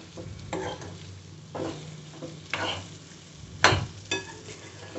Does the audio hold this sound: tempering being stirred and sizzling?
yes